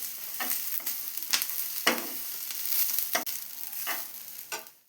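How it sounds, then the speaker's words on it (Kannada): Grated coconut roasts with fried peanut masala in a pan for chutney, with a steady soft sizzle broken by irregular scraping strokes of a spoon stirring close by. "ಇದಕ್ಕೆ ತೆಂಗಿನಕಾಯಿ ಆ್ಯಡ್ ಮಾಡ್ಕೊಳ್ಳೋಣ. ಆ್ಯಡ್ ಮಾಡ್ಕೊಂಡು 2 ನಿಮಿಷ ಈಗ ಬಾಡಿಸ್ಕೊಳ್ಳಿ."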